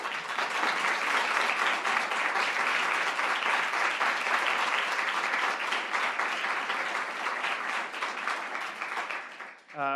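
An audience at the 2016 Duke Law Dean's Cup final round gives steady, dense applause for about ten seconds before it stops abruptly at the end.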